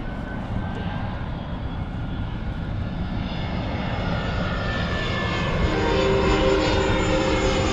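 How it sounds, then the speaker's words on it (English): A fixed-wing airplane passes overhead in Tokyo, its engine drone a steady broadband roar that swells gradually louder toward the end, with no voices over it. "there's another plane coming and I'm happy about the plane."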